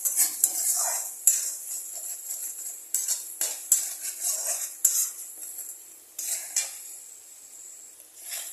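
Spice masala for a fish curry being stir-fried in a pan, a metal spatula scraping and clinking against the pan in repeated strokes over a soft sizzle, fairly close, with no talking.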